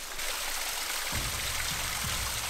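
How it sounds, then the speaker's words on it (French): Rushing water from the Grande Cascade of Mont-Dore in Auvergne, a constant broadband hiss with no voices, steady and fairly loud throughout. "Et je vous présente la cascade. Voilà, la grande cascade."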